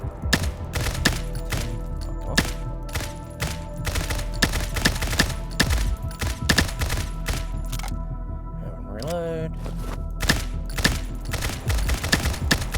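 Gunfire at a shooting range in the video game Combat Master: a long run of sharp, evenly spaced shots, loud and close, with a brief mechanical reload rattle partway through.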